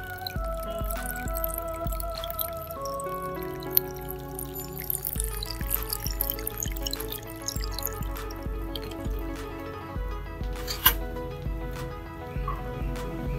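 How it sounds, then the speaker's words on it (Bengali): Water poured onto a freshly transplanted eggplant plant in a home garden, a steady trickling pour with scattered drips and splashes running continuously, close and fairly loud, no talking. "এবারে গাছ লাগানোর পরই একটু ভরপুর জল দিয়ে দিতে হবে।"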